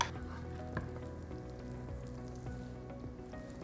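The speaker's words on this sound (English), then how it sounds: "Melt the butter in there." Butter melting in a non-stick pan gives a soft, steady sizzle with faint crackles and pops throughout, fairly quiet and close, with no voices.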